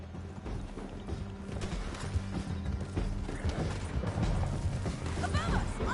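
Horse hooves galloping in a tense canyon chase in Red Dead Redemption, a busy run of clip-clop beats layered with clattering mechanisms, crashes and shouted voices throughout.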